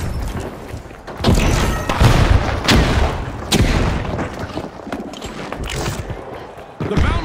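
A frag grenade blasts in the video game THE FINALS amid a dense firefight, with heavy booms and rapid gunfire crowding together, loud and close, and a commentator talking over the action.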